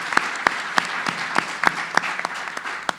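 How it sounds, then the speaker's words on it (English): Applause from a conference audience at a digital commerce event, a sparse run of individual claps over a low room murmur. "Maybe just a quick round of applause for these guys."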